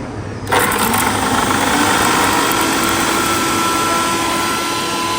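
An electric mixer grinder starts up after a brief pause and runs at a steady high-pitched whir, loud and close, with no talking.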